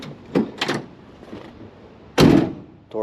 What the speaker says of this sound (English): Door closes good.